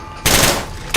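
Gunfire in the video game Fallout: New Vegas, two loud, close, sharp gunshots in quick succession, with no talking.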